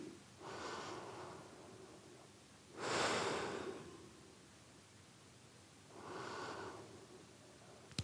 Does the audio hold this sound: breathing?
yes